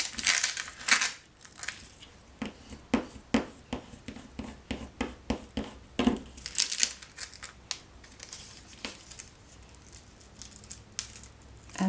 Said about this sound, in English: Give it a good rub. And then press with the bone folder again.